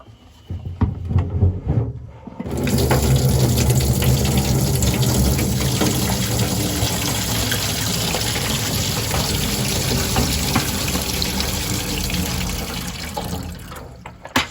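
Water gushes through a covered bucket of pecans being washed of dirt before cracking, starting abruptly after a couple of seconds of clatter and then running loud and steady, a dense continuous rush that ends near the close.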